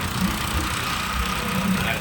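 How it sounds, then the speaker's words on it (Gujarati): A motorcycle engine drones steadily while riding, its low rumble mixed with a constant rush of wind and a voice murmuring underneath. "લાલભાઈ ત્યાં જઈશું અને બાઇક પર બાઇક રાઇડિંગ કરતા કરતા"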